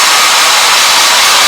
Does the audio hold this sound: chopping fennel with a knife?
no